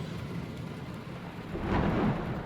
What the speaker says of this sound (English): It's started to rain. It started to thunder and lightning